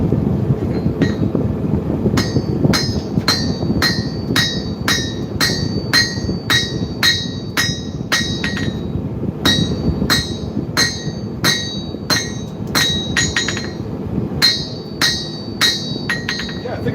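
A hammer strikes metal in a steady, ringing rhythm, loud and close, over a constant low rumbling background.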